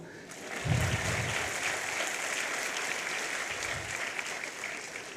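An audience at a convocation address at IIM Calcutta breaks into sustained, even applause: dense, close clapping that starts abruptly and holds steady throughout.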